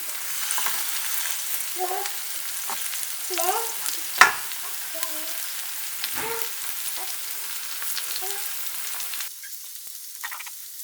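Tomatoes and peppers fry in a pan with a steady, close sizzle, broken by occasional stirring clinks and a sharp knock, while a child's brief vocal sounds are heard over it.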